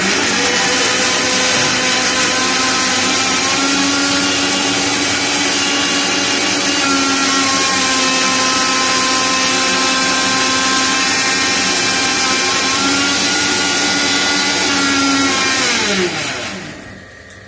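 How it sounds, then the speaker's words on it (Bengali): A kitchen mixer grinder grinds spices in one loud, steady motor whine that holds level for about fifteen seconds, then winds down and stops near the end. "খুব আওয়াজ করে মিক্সি"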